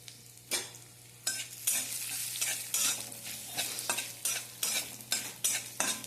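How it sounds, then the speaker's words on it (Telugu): Urad dal, dried red chillies and asafoetida sizzle loudly in hot oil for a tempering, with a spoon stirring and scraping the pan in regular bursts throughout. "ఇంగు కూడా వేసుకొని పోపు ఎర్రగా వేయించుకోవాలండి"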